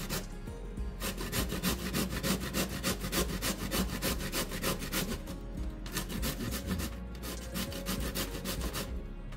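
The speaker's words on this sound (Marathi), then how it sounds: "आता ही या बाजूने मी किसून घेणार आहे। किसून घेऊया दुधी भोपळा।" Bottle gourd with its skin on being grated by hand on a kitchen grater, a fast steady rasping rhythm of even strokes, close and continuous throughout.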